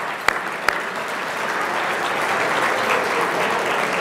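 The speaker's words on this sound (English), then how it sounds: "let's get a round of applause" Steady audience applause at a banquet fills the space, many hands clapping in a dense wash, with a couple of sharper claps standing out near the start.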